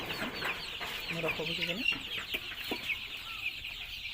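Sonali chickens kept in cold weather cluck in a steady flock chorus at close range, and a person speaks briefly over them.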